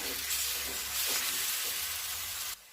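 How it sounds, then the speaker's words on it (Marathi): Chopped onion sautés in a pan with coriander-garlic paste, a soft steady sizzle and hiss with faint stirring, cutting off abruptly near the end. "यामध्ये कोथिंबीर, लसूणचं वाटण टाकल्यानंतर थोडंसं परतून घ्यायचं"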